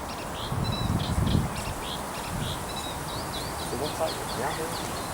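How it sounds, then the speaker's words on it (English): A sedge warbler sings on a countryside nature walk, a run of quick chattering, scratchy chirps heard at moderate distance while people talk nearby. "That's a sedge warbler."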